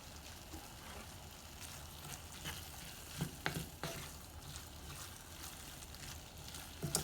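Corn frying in fat and butter in a pan, a steady low sizzle with occasional sharper pops and stirring scrapes, fairly quiet and close.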